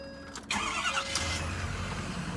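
A 2015 Ford Super Duty F250 pickup with a 6.7 Powerstroke turbo diesel engine cranks briefly and catches, then settles into a steady, fairly quiet idle rumble with no talking.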